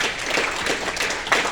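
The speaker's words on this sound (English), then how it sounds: "Give yourself one round of applause" Audience at a McDonough County Democrats dinner applauding: a dense, steady wash of many hands clapping at moderate loudness, continuous throughout with no voices standing out.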